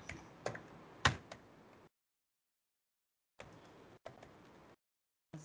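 Computer keyboard keys pressed in short clicky bursts for a Control Alt G shortcut, a few sharp taps near the start, then a pause followed by further soft clusters of typing.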